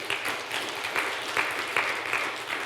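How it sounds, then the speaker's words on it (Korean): Church congregation applauding during a Sunday sermon, a steady wash of many hands clapping in a hall with faint rhythmic pulses, moderately loud and continuous throughout with no voice over it. "하나님께 영광의 박수 한번 올려드립시다."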